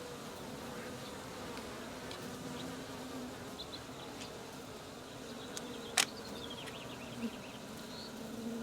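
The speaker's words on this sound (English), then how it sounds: "Bees." A soft, steady honeybee buzz hums quietly in the background, with a brief sharp click near the end and faint bird chirps.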